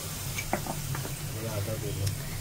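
Chana and moong dal fry in hot oil with mustard seeds and whole cumin, a steady soft sizzle with small pops and stirring, heard under someone talking.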